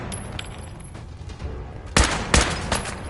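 Gunfire in the video game Fallout 4 crackles as a sustained fusillade of shots, with several sharp, loud blasts standing out near the end over a background of rapid firing.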